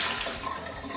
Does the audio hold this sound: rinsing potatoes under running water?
yes